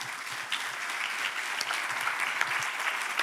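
A church congregation at a Sunday worship service claps together in steady, dense applause, loud and continuous throughout with no talk over it.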